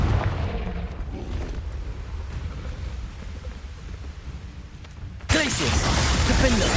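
In Hogwarts Legacy, a Confringo fire-blast spell detonates with a sudden loud boom near the end, following a stretch of rumbling game ambience and a voice.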